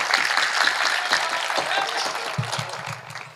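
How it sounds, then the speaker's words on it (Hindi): Audience at a Hindi poetry recital (kavi sammelan) breaking into sustained, dense applause, loud and continuous, fading slightly toward the end. "एक बार ताली बजा के आदेशित करिए"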